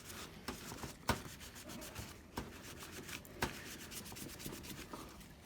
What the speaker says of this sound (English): bit of isopropyl alcohol on the heatsink, not too much, just a little, and you're just going to rub it down